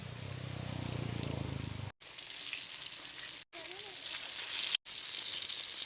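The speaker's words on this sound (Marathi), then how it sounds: "तर मस्तपैकी पीठ लावलेलं आहे, आता आपण त्याला सोडूया." Floured masala pomfret fries in hot oil on a wood-fired clay stove, giving a dense, continuous crackling hiss like rain, broken by a few brief cuts, with low background murmur at the start.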